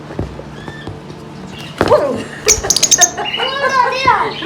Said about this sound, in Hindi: इसके अंदर तो तोता है।